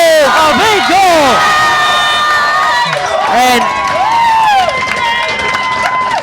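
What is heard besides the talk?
crowd cheering after a girls' hockey goal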